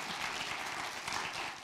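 A comedy audience claps together in a brief, dense burst of applause that holds steady, then tapers off at the end.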